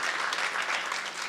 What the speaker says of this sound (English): A big round of applause for you guys out there.